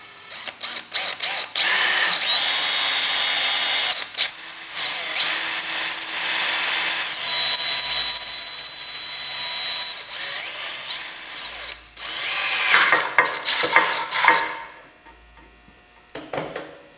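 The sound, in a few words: power drill drilling a new hole for a shop light hook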